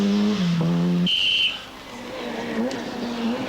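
An Opel rally car drives a stage at a 1996 Belgian rally, understeering through a corner. Its engine tone drops sharply as it passes, a brief high whine follows, and the car then pulls away more faintly.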